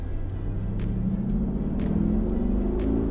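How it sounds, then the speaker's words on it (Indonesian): A Mercedes-AMG G 63's exhaust drones with a deep throaty rumble as the engine revs up and holds, loud and continuous, with faint ticking clicks over it. "Jadi sebenarnya knalpotnya tuh bisa lebih bising lagi dari ini"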